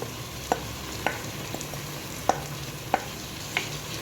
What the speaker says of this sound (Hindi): अब हम ये तिलकुट वाली जो ना पत्ते हैं ये डाल देंगे, सब इसमें सब डाल देंगे।